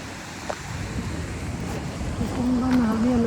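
Gusty wind buffets the microphone in a low, continuous rumble outdoors, with a voice speaking briefly near the end.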